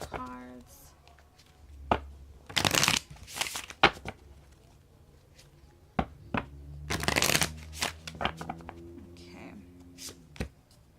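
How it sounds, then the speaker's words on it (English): A deck of tarot cards is riffled and shuffled by hand in several loud bursts, close to the listener, with a voice talking in between and faint city noise behind. "shuffling these cards"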